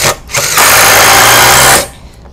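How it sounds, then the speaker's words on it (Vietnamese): A DeWalt power drill drives a screw into a steel purlin in one loud, close, steady whir lasting just over a second, with brief revs before and after. "bắn vít xà gồ nha, thoải mái luôn."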